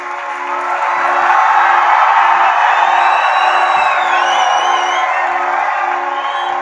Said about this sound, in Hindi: एक बार जोरदार तालियां बजाएं आप सब लोग।